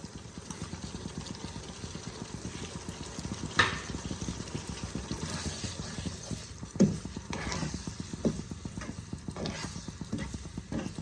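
Boiled peas stirred and sautéed in hot oil for a no-onion, no-garlic matar paneer, a steady close sizzle with rhythmic scraping and clicks of the spoon against the pan throughout, and no talking.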